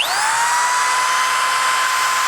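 A DeWalt 120-volt corded hammer drill runs steadily at high speed, powered from a lithium battery inverter. Its whine climbs briefly at start-up, then holds a constant loud tone alone for the full length.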